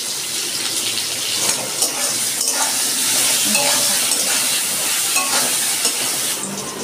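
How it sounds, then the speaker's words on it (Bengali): Potato pieces frying in oil with salt and turmeric, a dense, continuous sizzle with stirring scrapes and spattering crackles, close and fairly loud, with no talking. "আমার আলুটা ভাজা হয়ে গেছে"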